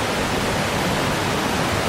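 Creek water rushes steadily at a backpacking creek crossing in the Wind River range, a dense, close, even wash of flowing water with no voices.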